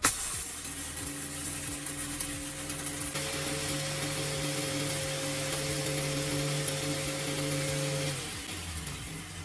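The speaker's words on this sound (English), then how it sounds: "I try a scoop of corn. The grinder handles it well" A homemade grinder, built from a simple cutter and an old pot, grinds a scoop of corn, making a steady, loud motor whir with a humming tone and scattered gritty ticks, then winding down at the end.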